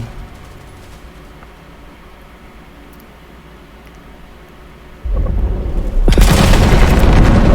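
Low rumbling ambience builds into sudden loud booming blasts that roar on, like heavy explosions, in the video game Veiled Experts, close and loud after a quieter start.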